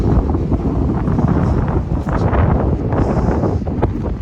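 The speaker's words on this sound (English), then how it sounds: "Very windy." Strong gusts buffet the microphone outdoors during a storm in Wells, British Columbia, a continuous loud roaring rumble that swells and dips without pause.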